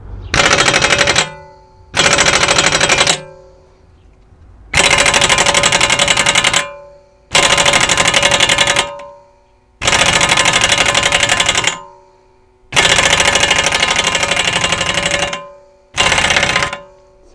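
An impact wrench loosening the tightly torqued 27 mm driveshaft nut on a VW Touran with a hex socket, firing seven loud hammering bursts of one to two seconds, separated by brief pauses.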